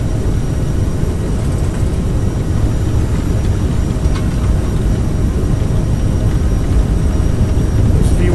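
Endeavor Air jet airliner engines at takeoff (TOGA) thrust, heard from inside as a loud, steady, deep roar with constant rumble and no talking.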